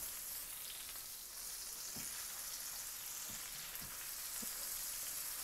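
Chicken breasts frying in olive oil and butter in a casserole pan make a steady, close hiss of sizzling with a few soft pops and crackles, no talking.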